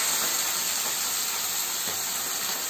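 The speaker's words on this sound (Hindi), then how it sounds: "फ्राइंग पैन में इनको फ्राई करने दिया है, और इसमें 3 चम्मच तेल डाला है मैंने।" Pabda fish coated in turmeric fry in about three spoons of oil in a frying pan, giving a close, steady hiss that does not let up, with no voices.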